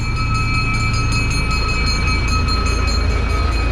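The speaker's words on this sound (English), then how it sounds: "This is the trackless train." A trackless train rumbles along through High Park in Toronto, a steady engine drone with a continuous low rumble and faint high whine, fairly close and with no talking.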